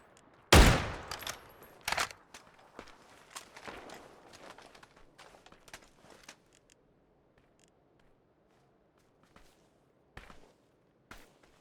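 Gunfire in the video game PUBG: a loud opening blast followed by a rapid burst of shots, then scattered single cracks fading to sparse distant pops over quiet background.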